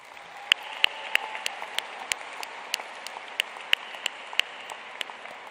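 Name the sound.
audience applause at a student convocation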